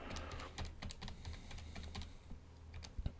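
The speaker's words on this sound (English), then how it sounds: "carefully typing that into my calculator" Quick, light key taps on a calculator keypad while working a trigonometry exam problem, a faint, irregular patter of small clicks close to the microphone in a quiet room.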